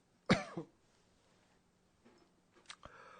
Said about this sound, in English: I'm going to try and stop coughing here